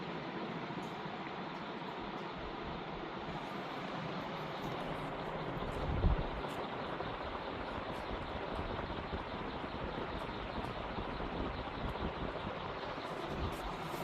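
A 56-inch Airmaster (Relite) industrial fan with a low amperage draw runs at full speed. It makes a steady, loud, broadband whooshing roar that holds evenly throughout, with no one talking.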